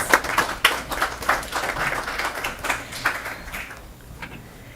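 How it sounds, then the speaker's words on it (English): Clapping from attendees at a board of education meeting, a small group's uneven claps close by, tapering off toward the end. "Give them a round of applause."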